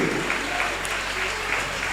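An audience at a school event honoring teachers, with a district education officer as guest, applauds in a steady, dense wash of clapping that holds evenly throughout.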